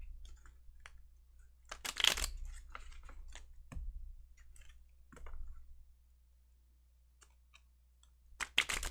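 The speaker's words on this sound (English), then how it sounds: "that was like a terrible shuffle on my part" Tarot cards are shuffled in quiet, scattered bursts of sharp riffling and tapping, with a few louder flurries separated by near-silent pauses.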